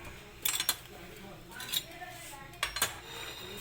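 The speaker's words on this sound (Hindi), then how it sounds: "अब हम इसको डिश में निकाल लेते हैं" Aloo kulcha is lifted out of a pan into a dish, with a few close clinks and scrapes of a utensil against metal and crockery over a quiet kitchen background.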